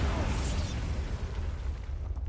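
A Bombarda blasting spell in the Hogwarts Legacy video game lets out a loud, deep, rumbling explosion that fills the short moment and then slowly fades.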